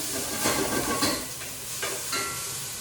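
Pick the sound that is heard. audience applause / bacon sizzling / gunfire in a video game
bacon sizzling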